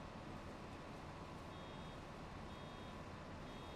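Reversing beeps from a farm machine working a short windrow in Farming Simulator 25: faint, steady electronic beeping sits low under a constant broadband engine rumble.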